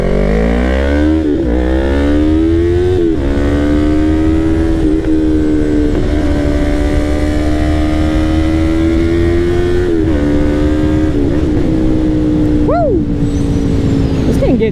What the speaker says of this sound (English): All right, time for some twisty action on the MT-03.